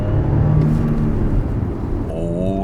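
An Audi A7 55 TFSI engine in dynamic mode pulls hard under acceleration, a loud, close cabin roar with rising tonal whine and a gear shift near the end.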